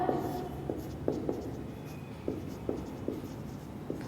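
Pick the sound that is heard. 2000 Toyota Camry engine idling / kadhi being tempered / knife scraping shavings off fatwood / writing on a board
writing on a board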